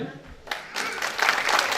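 Crowd applause breaks out at a Bioherbs Best Seller Award 2018 ceremony as a crest is presented, swelling from scattered claps into dense, sustained clapping that fills the hall over a faint murmur.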